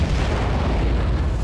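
Continuous booming weapon fire and explosions in the underwater combat game Aquanox, a dense rumbling barrage with heavy low-end thuds, loud and unbroken throughout.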